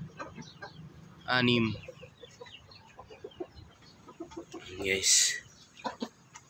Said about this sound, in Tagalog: Ito yung ating Black Australorp. 5 months old.